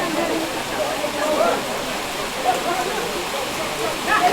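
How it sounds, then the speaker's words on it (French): A rain shower falls steadily during an outdoor rugby match, a continuous hiss of rain under faint crowd and player voices. "maintenant il y a une averse"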